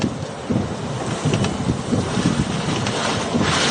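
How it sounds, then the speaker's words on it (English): A strong wind gust during Hurricane Helene's landfall in Perry, Florida, recorded through an open car window, comes as a loud, turbulent roar with buffeting surges and no voices. "Here comes good gust."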